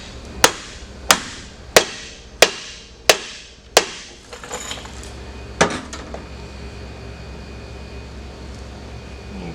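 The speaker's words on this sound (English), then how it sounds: "hitting with a hammer" Six sharp, evenly spaced hammer blows on metal brake parts, loud and close, followed by a fainter clink and a single later strike against a quiet background.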